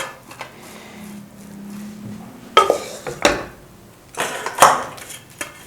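Roasted flour cooked in desi ghee is scooped out of a metal wok. A spoon scrapes and clanks against the pan in several sharp, irregular clinks after a quiet start.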